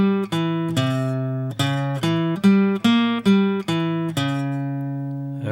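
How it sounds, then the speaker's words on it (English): A clean electric guitar plays a flowing jazz arpeggio, single notes picked one after another with a steady rhythm, ringing clearly and up close. "putting arpeggios 1 and 2 together should sound like this."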